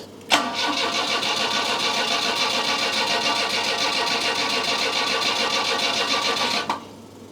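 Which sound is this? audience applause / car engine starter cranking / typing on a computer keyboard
car engine starter cranking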